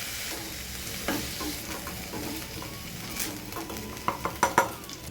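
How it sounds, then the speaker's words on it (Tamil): Vallarai (pennywort) greens sauté in a hot pan for dosa batter, giving a steady close sizzle broken by spatula scrapes and a quick run of sharper stirring knocks near the end. "ஒரே ஒரு நிமிஷம் வதக்கினா போதும்"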